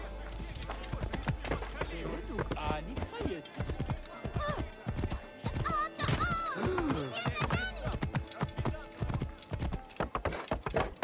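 Horse hooves clip-clop steadily and loudly while riding in Assassin's Creed Origins, a brisk trot under game music and someone talking in Russian.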